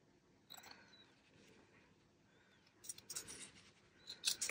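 Scissors snip through paper while making mini journals, a few quiet, crisp cuts spread out and then clustered near the end, close and faint with no talking.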